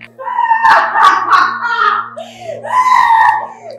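In a Nigerian drama film scene, a person screams loudly and close by in two long, wailing bursts.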